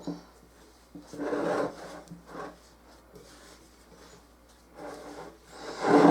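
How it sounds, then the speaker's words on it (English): Cinnamon roll dough being mixed in a pan makes soft, close scraping and rubbing strokes in an uneven rhythm, with a few louder scrapes among quieter ones. "I'm just going to mix it in the pan first,"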